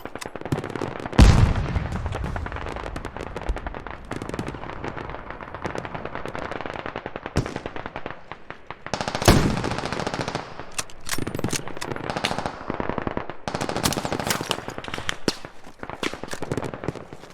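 Gunfire in the military shooter game Squad: rapid machine-gun bursts and single cracks rattle almost nonstop, loud and close, with brief pauses between volleys and distant shots echoing in the gaps.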